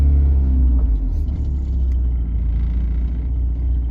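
A Porsche engine idles right after starting inside a shop, a steady, loud, low rumble that holds without a break and with no talking over it.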